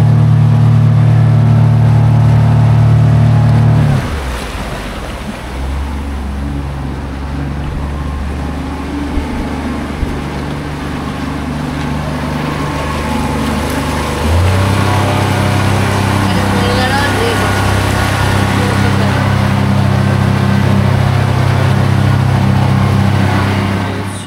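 A motorboat engine drones steadily and loudly on a boat trip through the Bichitrapur mangrove forest, easing to a lower pitch partway through before picking back up, with water rush underneath and voices faintly in the background.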